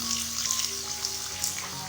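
Chopped onions sizzle and crackle steadily in hot oil in a pan, a close, continuous frying hiss.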